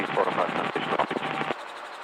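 A helicopter cabin during a training flight, with the steady rotor and engine drone running under radio chatter and voices talking throughout.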